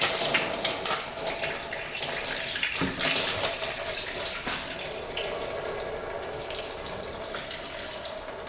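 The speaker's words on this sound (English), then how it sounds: "All right, we can drain out this coolant." Coolant draining out of a UTV engine, a steady splashing gush of liquid pouring into a container close by, continuous throughout with slight surges and no talking.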